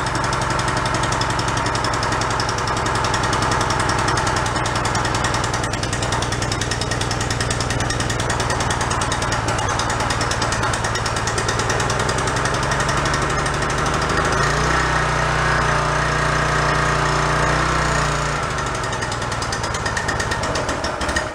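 A junked, garbage-salvaged pressure washer's small gasoline engine runs loud and continuously with a harsh hammering, knocking chug that shifts pitch slightly near the end.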